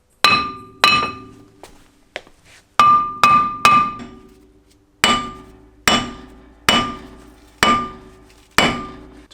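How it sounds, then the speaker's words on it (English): Repeated heavy hammer blows strike a brake rotor with ringing metal clanks, in bursts of two to four hits separated by short pauses, close and loud. "When in doubt, hammer it out."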